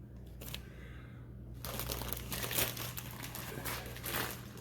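A plastic package is cut open in a home kitchen, giving a faint crinkling rustle that starts quietly, then grows into a busier, louder stretch of crackling plastic with no talking.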